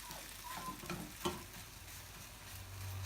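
Breakfast food frying in a pan, a steady close sizzle with a few scraping stir sounds, heard alone with no talking.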